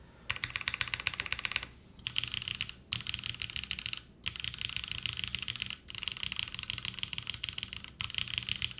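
Typing on a mechanical keyboard with lubed, filmed Nixie switches in a top-mount case, fast continuous clacking in bursts with short pauses between them, close up and moderately quiet, with no voice over it.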